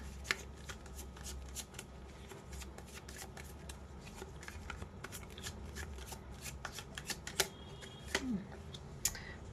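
Tarot cards being shuffled close by, a steady run of soft rapid flicking and riffling clicks with occasional sharper snaps, fairly quiet and alone.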